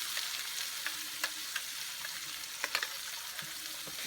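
Onion and tomato paste sizzling with spices in a hot pan, a steady bright frying hiss with occasional scrapes and taps as it is stirred, close and without speech.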